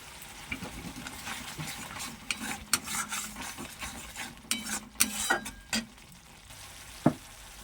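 Whole spices, potatoes and soy chunks frying in oil in a pan: soft, continuous sizzling under irregular scraping and clinking of a stirring utensil, fairly quiet and close, with no talking.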